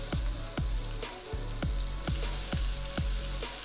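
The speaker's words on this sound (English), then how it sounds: "just looking to sear the outside and give it that amazing flavor." Beef pieces sear in a pan for stew, with a steady loud sizzle and a regular series of sharp scraping or tapping strokes about every half second. No speech.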